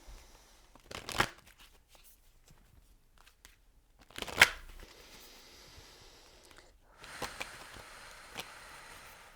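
Romance Angels oracle cards being shuffled, three separate riffling bursts with quiet pauses between them, close and crisp, the last one longer and softer.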